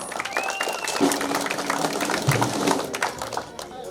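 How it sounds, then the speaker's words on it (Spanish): An audience at a birthday party in Lurín claps steadily in dense, lively applause, with some voices and music-like tones mixed underneath. "¡Una vez más, las palmas!"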